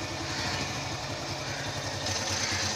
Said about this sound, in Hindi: कुछ साउंड तो आ रही है इसके इंजन में से, कुछ ठीक साउंड नहीं आ रही इसके इंजन में से, पर फिर भी ये स्टार्ट है